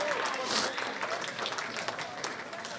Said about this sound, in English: Come on, give me a round of applause, please